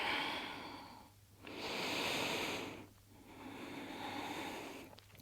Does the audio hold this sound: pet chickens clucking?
no